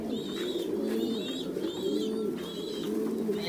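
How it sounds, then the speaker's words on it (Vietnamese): Pigeons on a pigeon farm, pairs raising their young, coo in repeated soft, throaty phrases with a rhythmic rise and fall, close by against a quiet background. "Đây là những cặp chim bồ câu là đang nuôi con hết rồi."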